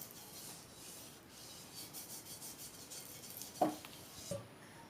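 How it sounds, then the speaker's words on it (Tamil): Oil rubbed across a hot cast dosa griddle while making paruppu dosai, a faint soft rubbing with a couple of brief scraping strokes near the end. "இப்போ எண்ணெய் தடவி விட்டுடலாம்."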